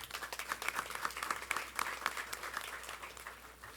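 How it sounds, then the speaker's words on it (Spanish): Applause from a conference audience, a fairly faint, scattered-to-steady patter of many hands clapping with distinct individual claps, easing slightly toward the end. "Démosle un fuerte aplauso, por favor."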